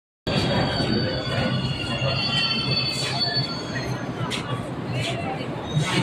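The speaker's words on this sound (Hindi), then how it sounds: "अब हम मेट्रो में बैठ गए" A Delhi Metro train runs with a steady loud rumble and high wheel squeal, heard from inside a carriage with people talking over the noise.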